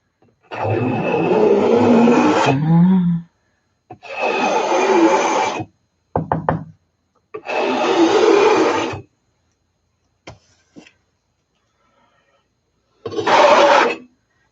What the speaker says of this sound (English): when I do this, I feel like Ann Osborne because she scrapes all the time.